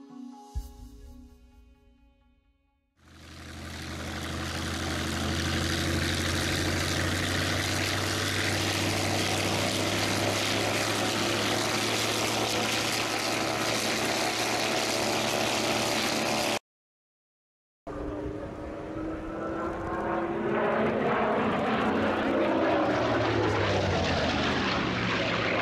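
A 3000-horsepower Bristol Centaurus aircraft engine running loud and steady, a powerful sustained propeller drone that swells up after a quieter start, cuts out briefly, then resumes.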